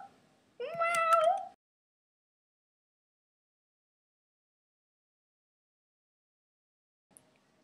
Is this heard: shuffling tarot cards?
no